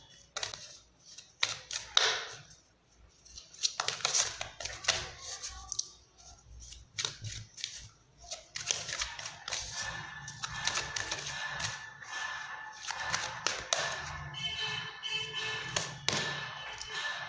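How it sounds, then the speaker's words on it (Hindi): Angel tarot cards drawn from a deck and laid out, producing a busy run of close taps, flicks and shuffling card slaps that fade into lighter rustling. "मैं सारे कार्ड्स निकाल लूँगी"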